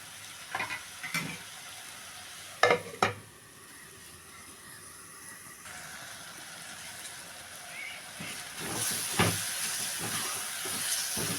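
Prawn curry simmering under a lid in a pot gives off a steady soft hiss and bubble, broken by a few sharp clanks early on, then swells into a louder, steamier sizzle toward the end.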